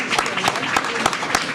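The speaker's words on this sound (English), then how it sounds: "It's okay to clap." Dense applause from an audience at a school committee award ceremony as a grade 4 ELA winner is called forward, steady, close and fairly loud throughout.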